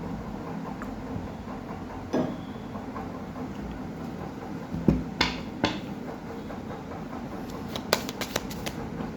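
Chakra Wisdom Oracle tarot cards are shuffled by hand, giving soft riffling and a few sharper card slaps and flicks over a quiet room background.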